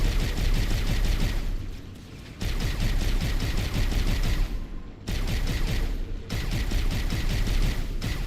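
Sustained automatic gunfire from Halo: Combat Evolved rattles loudly in long bursts, broken by short pauses near two, five and six seconds before the shooting picks up again.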